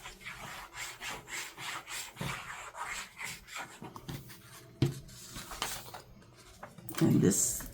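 Paper flaps of a file folder folio being pressed and rubbed down with glue, soft repeated rubbing and scraping strokes close by, with occasional thumps and a louder crinkle near the end.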